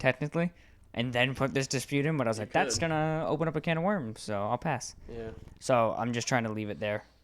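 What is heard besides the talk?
None of the usual background noises is heard.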